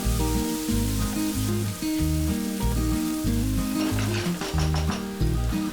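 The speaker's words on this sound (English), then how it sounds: "add 3 carrots cut in small cubes, half cup frozen green peas, and fry it until the carrots are nice and soft" Small cubes of carrot and frozen green peas frying in a pan for a shepherd's pie, giving a continuous hissing sizzle beneath loud background music, with no talking.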